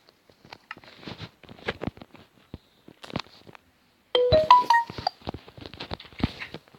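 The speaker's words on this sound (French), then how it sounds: "C'est une notification YouTube parce que je me suis abonné." A short melodic YouTube notification chime of a few bright rising tones cuts in amid scattered clattering and tapping sounds.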